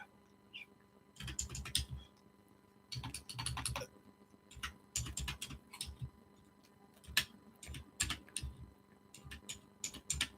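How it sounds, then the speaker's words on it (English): One-handed typing on a computer keyboard, quiet bursts of clicking keystrokes in uneven clusters separated by short pauses, close and fairly soft in a still room. "I'm typing with one hand."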